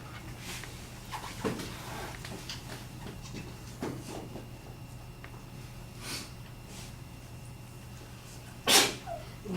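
A single sharp sneeze bursts out near the end of a quiet room scene, after a stretch of low background murmur and faint shuffling.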